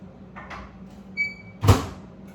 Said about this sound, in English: I'm gonna put them in a microwave.